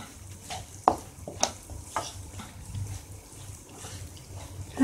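Moong dal roasting in ghee while being stirred for halwa, giving a soft steady sizzle with faint scraping taps from the stirring, quiet and close.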